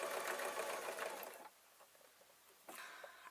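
A sewing machine stitches fleece in a loud close burst, stops for about a second, then starts again briefly.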